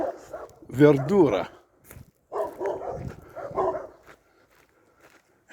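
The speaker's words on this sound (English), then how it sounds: "So the dogs were barking." Dogs bark at a small farm in Sicily surrounded by olive trees, with short loud bursts of barking mixed in with people talking nearby.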